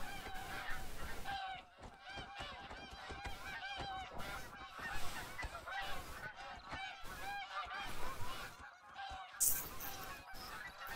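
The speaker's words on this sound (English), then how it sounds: "There's so many geese in the sky." A dense flock of geese in The Hunter: Call of the Wild honks continuously overhead, with many overlapping loud calls forming a steady chorus that swells and stays noisy throughout.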